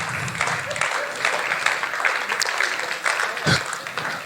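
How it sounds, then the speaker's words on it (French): A comedy-show audience applauds in a sustained, dense wash of clapping that runs across the whole clip, steady and fairly loud with small swells and one sharp burst near the end. "Même quand il n'y a pas la vanne, vous applaudissez, c'est génial le public"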